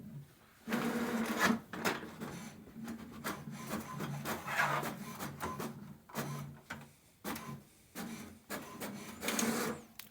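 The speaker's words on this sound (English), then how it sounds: "It will print the password of the Wi-Fi Direct." An HP Smart Tank 5103 inkjet printer prints a page: a near, rhythmic series of mechanical whirs, rubbing paper-feed passes and clacks, with brief pauses between bursts and no talking.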